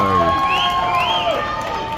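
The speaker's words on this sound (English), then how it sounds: "But appreciate the East cheering. It's a good atmosphere." Easts supporters at a Sydney League 1 grand final against St George: a loud, steady crowd roar with cheering and shouts, and a commentator's voice over it.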